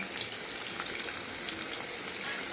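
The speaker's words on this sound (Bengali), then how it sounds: "এখন ঢাকা দিয়ে দেওয়া হচ্ছে, এখানে মাছ ভাজা হচ্ছে।" A soft, continuous sizzle of fish frying in a covered pan, fairly quiet and even throughout, with faint crackles and no voices.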